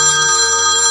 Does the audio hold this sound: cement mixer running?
no